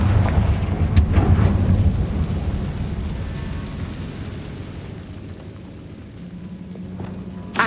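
In the Hogwarts Legacy video game, a Confringo blasting spell erupts in a loud, rumbling explosion with sharp cracks at the start, then a long booming roar that slowly fades.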